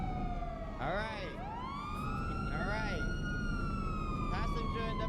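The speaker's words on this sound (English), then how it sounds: "Turn the sirens off" A police car siren in a GTA V roleplay wails and yelps with rising and falling sweeps, sustained and fairly prominent with voices talking underneath.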